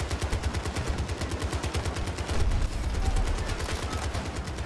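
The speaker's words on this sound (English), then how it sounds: "This is just me shooting in one spot." An M60 machine gun fires continuously in Battlefield 2042, a rapid, steady stream of loud shots with no break throughout.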